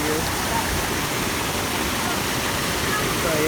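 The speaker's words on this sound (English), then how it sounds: "It has 1, 2, 3, 4 set of falls" Water pours steadily over a waterfall with four sets of falls at Banyan Springs, a loud, continuous broadband rush heard up close with no break.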